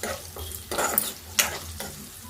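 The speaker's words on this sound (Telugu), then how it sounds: "కొంచెం వేగాలి ఉల్లిపాయలు, లేకపోతే కసకసలాడుతూ ఉంటాయండి" Onions frying in a pan for an ivy gourd and coconut fry, a soft sizzle broken by a few scraping stirs of a spatula, close and without talk.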